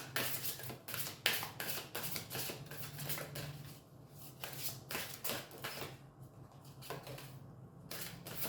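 Tarot cards are shuffled close up, a rapid run of crisp riffling flutters and taps that repeats in bursts over several seconds, quiet and without speech.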